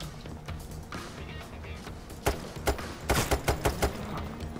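Sniper gunfire in the heist video game Payday 3, several sharp cracking shots in quick succession over a low background hum, the bursts growing denser toward the end.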